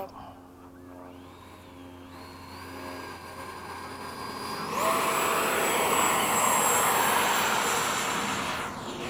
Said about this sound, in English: All right, I'm taking off.